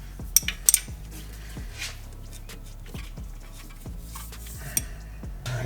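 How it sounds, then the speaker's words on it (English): A wrench works the valve lock nut and adjustment nut on a Toyota 22RE engine, giving sharp metallic clinks and ticks followed by softer scattered taps and scrapes at close range. "we're just going to loosen this lock nut, and then we're going to tighten this adjustment nut"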